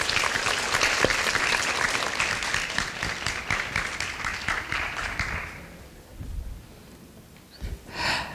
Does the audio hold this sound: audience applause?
yes